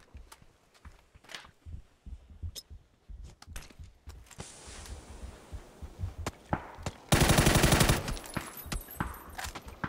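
Video game gunfire while enemies close in: scattered sharp shots with a louder sustained burst of fire near the end, over a busy background of footsteps and clatter.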